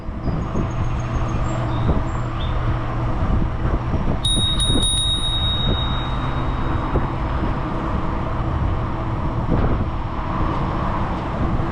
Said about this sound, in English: she did know I was coming with the bell